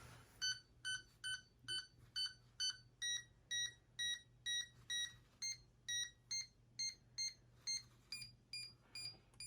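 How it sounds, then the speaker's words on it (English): An EV3 robot emits a steady train of short electronic beeps, about two per second, each a bright double tone, faint and evenly spaced over a low background hum. "Like, listen to the beeps."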